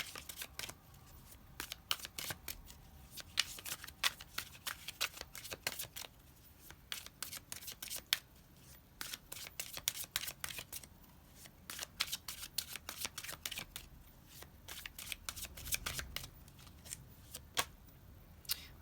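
Tarot cards being shuffled by hand during a reading, a steady run of quick riffling and snapping flicks, close and fairly quiet, with no voices.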